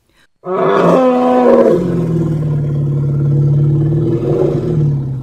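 A loud, close elephant call, a trumpeting roar that starts abruptly, then settles into a long, sustained lower rumbling tone lasting several seconds, heard alone.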